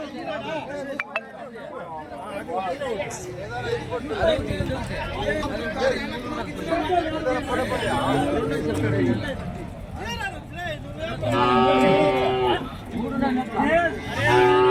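Native cattle, calves and young bulls moo repeatedly amid a busy crowd of people talking at the Santhipuram cattle market in Andhra Pradesh, with a long loud bellow standing out near the end.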